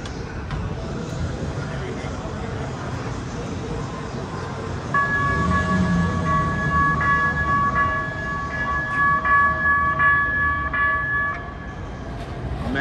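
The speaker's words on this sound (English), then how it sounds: "There's another train coming." A Los Angeles Metro Rail train rolls in at a street-level station with a steady rumble, and partway through a bright sustained horn or bell tone sounds for several seconds before fading back to the rolling noise.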